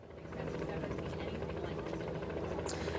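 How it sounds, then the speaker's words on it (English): A continuous helicopter drone over a Plano, Texas home where a fatal shooting occurred, with rhythmic rotor buzzing, steady and fairly distant, holding at an even level throughout. "they hear that helicopter buzz overhead"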